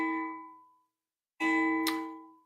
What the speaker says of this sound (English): Clock is chiming